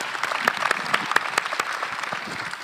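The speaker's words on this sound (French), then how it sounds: "On t'applaudit et Sonia va prendre le relais." An audience at a French conference session claps warmly, a dense spatter of hand claps with a few sharper individual smacks standing out, steady throughout and moderately loud, with no voice over it.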